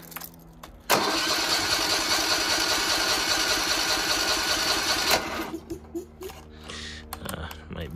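A Kobelco SS1 compact hydraulic mini excavator engine cranks and catches, then runs with a loud, steady mechanical clatter for about four seconds before cutting out, followed by clanks and a brief voice.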